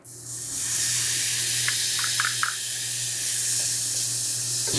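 Chopped garlic hits a hot pan in the middle of making Cajun chicken pasta and sizzles loudly with a steady hiss, with a few faint clinks of a utensil near the middle.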